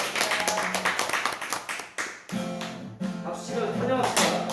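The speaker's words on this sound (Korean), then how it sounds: "박수 치면 환영합시다" A church congregation claps to welcome two newcomers. The clapping is rhythmic and rapid, broken by brief pauses, and comes with singing voices and accompaniment.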